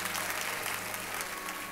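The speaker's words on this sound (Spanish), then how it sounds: "Dale una ofrenda fuerte de palmas a nuestro Dios" A church congregation claps hard and steadily throughout, a dense, even wash of applause from many hands filling the room without pause.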